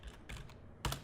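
Keys clatter on a computer keyboard as a command is typed at a command line, a few quick bursts of close, crisp clicks with a final louder pair of keystrokes.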